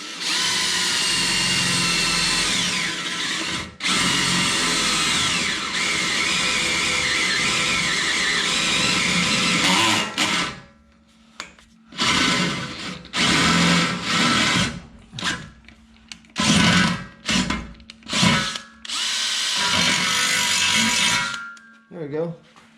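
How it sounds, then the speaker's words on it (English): Power drill cutting a drain hole through the floor of a DIY 5x10 teardrop camper, a long steady whining drill run, then several short start-stop bursts, close and loud, with someone talking in between. "Let's cut us a drain hole in here."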